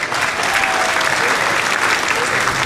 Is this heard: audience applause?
yes